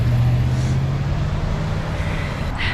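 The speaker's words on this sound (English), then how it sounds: "all the traffic that was going by was so loud that I could not really record" Loud road traffic streams past a crosswalk, a steady close rumble of engines and tyres with a low droning hum and no pauses.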